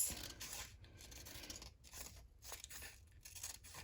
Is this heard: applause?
no